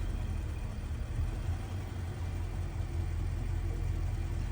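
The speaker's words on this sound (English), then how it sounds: "you got that high and low idle" An Infiniti QX80 idling with a possible bad alternator and high fuel trims, a steady close engine rumble with the idle dipping and rising slightly rather than holding perfectly even.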